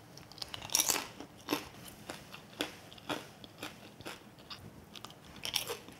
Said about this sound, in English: All this coated very crunchy and candied sweet